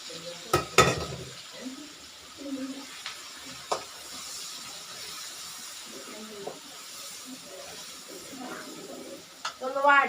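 Ginger, green chilli, curry leaves and garlic fry in hot coconut oil for chicken curry, a steady close sizzle with occasional stirring scrapes and sharp clinks, while a person talks intermittently over it.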